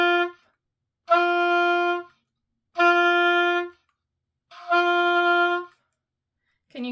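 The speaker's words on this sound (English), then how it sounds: "Can you hear how the forked F is a little more muffled sounding and stuffy, and the tone in the regular F is much clearer?" An oboe plays a regular F and then a forked F fingering, four sustained single notes of about a second each separated by short silences, close and clean with nothing else heard.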